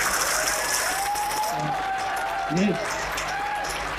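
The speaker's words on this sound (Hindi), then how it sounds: "तालियां कम हो गई है, लग रहा है जान खत्म हो गई है।" Applause from an audience at a business marketing seminar hall, a continuous crowd clapping under a man's loud amplified speech, with brief vocal sounds over it.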